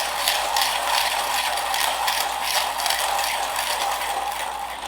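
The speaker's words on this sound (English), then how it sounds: "I've created a cool little gizmo that you can just put on here with a hand drill and you're done" A hand coffee grinder cranked by a hand drill grinds roasted coffee beans with a steady, loud, continuous mechanical whirring and rattling that runs throughout without pause.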